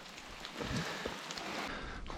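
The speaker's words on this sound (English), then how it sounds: "if it starts raining any heavier, the fish will be swimming through the air" Rain falls steadily at Lake William Hovell during a fishing trip, a dense, constant hiss of drops with a few louder nearby patters.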